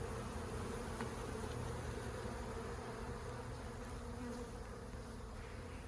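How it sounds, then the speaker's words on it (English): A spring swarm of honeybees buzzes around a basket they are settling on, giving a faint, continuous, even hum of many insects with no talk. "they'll stop buzzing around and settle on the basket"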